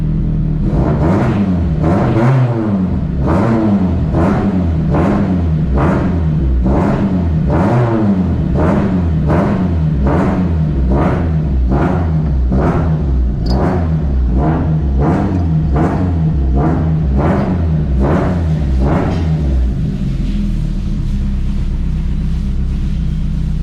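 Honda K-series engine revving repeatedly in steady, rhythmic bursts, loud and close, each throttle blip rising and falling about once a second before settling into a rough idle near the end.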